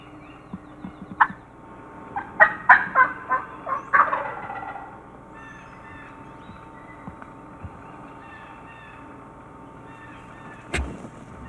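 A wild turkey gobbler gobbles from the roost in the spring woods, a loud rattling burst of rapid, descending notes from a moderate distance, followed by quiet and a brief sharp knock.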